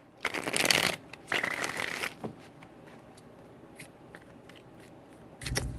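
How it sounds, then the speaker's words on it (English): Tarot cards being shuffled in two quick riffling bursts, close up, followed by soft handling noises and a brief rustle at the end. "3 shuffles."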